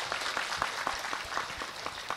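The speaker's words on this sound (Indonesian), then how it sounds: "Kula nyuwun tepuk tangan dulu buat panitianya." Clapping from an audience at a religious lecture gathering, applauding the organising committee, a short patter of hands with a few sharper individual claps standing out in a quick, uneven rhythm.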